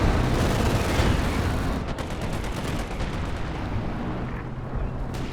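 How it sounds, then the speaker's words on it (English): Continuous heavy bombardment in Company of Heroes 2: loud, dense artillery shelling and bomb blasts rumble and crackle nonstop, with rapid sharp impacts layered over a booming low roar. "Out of the range of the bombs."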